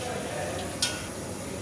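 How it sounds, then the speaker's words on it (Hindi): Cashews frying on a low flame in a pan, a soft steady sizzle with a single faint click of a utensil. "अब हम काजू इसमें इसी तरीके से फ्राई करेंगे"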